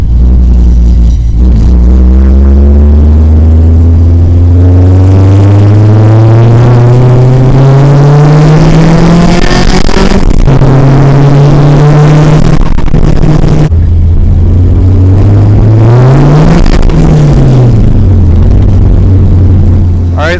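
A Honda Civic engine revs hard through rising gears on a test drive after a clutch replacement, loud and close, with pitch climbing, dropping at shifts and swelling again.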